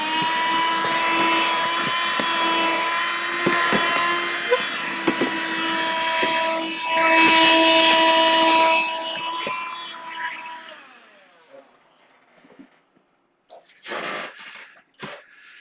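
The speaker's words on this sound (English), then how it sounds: "let's polish this fret." A guitar fret being polished during a fret recrown gives a loud, steady, whining motor-tool drone with a strong tonal hum for about eleven seconds. It then winds down into quiet, followed by a few short handling scrapes.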